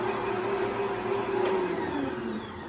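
An old stand mixer kneading homemade wheat bread dough, a loud steady motor whir with a droning tone that shifts slightly, close by and uninterrupted, with no talking.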